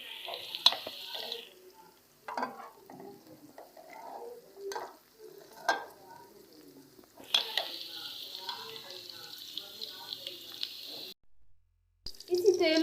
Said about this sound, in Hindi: भिंडी को 4 से 5 मिनट तक फ्राई करना है।